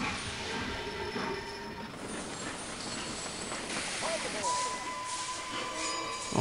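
A train rolls along in Sid Meier's Railroads, Northeast US scenario, giving a steady rumbling clatter with squealing wheel tones that rise and bend partway through.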